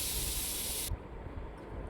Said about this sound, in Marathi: कुकरला झाकण लावून बरोबर 2 शिट्या मीडियम गॅसवर करून घ्यायच्या आहेत